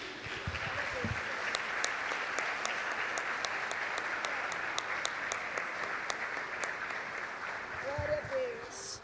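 A church congregation applauds the Lord in steady, continuous clapping throughout a worship service, with a faint voice briefly audible near the start and again near the end.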